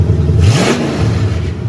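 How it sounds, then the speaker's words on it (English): A 1969 Ford Mustang with a 302 V8 and open headers revs loudly up close, the engine climbing in a single rising surge and then settling back into a rough, rumbling idle. "Give it a little bit more revs."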